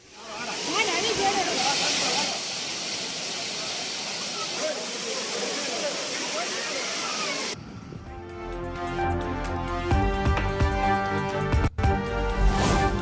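Rushing water of the Agasthiyar waterfall, busy with holiday visitors, makes a steady, loud broadband roar for about seven seconds before music takes over.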